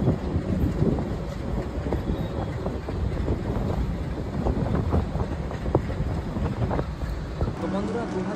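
Inside the Guwahati Superfast Express on the run, a steady rumble of wheels and carriage rattles with rhythmic clacks and wind noise continues throughout, with a voice briefly audible.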